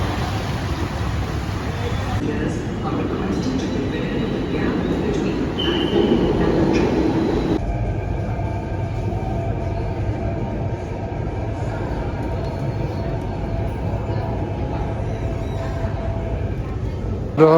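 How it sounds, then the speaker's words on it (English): Mumbai Metro Line 1 train on the Versova route, a steady close rumble of wheels and car noise running throughout, with a louder passage early on that drops to a smoother hum with faint squeals. "Mumbai Metro 1."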